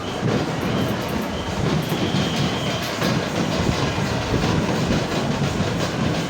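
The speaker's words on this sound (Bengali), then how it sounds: "প্রায় দু মিনিট সময় লেগেছে ট্রেনটা ছাড়তে" A train pulls out of the crowded Thakurnagar railway station in a steady, loud rumble of rolling cars and wheels on rail, with no pauses throughout.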